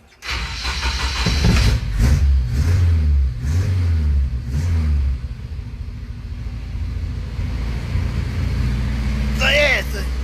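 An autocross car's engine cranks and catches, then revs loudly several times in rhythmic surges before settling into a steady, slightly high idle.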